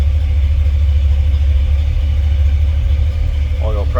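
A 1963 Chevrolet Bel Air with a 350 V8 idles after a cold start, a loud, steady low rumble throughout, with a short voice-like sound near the end.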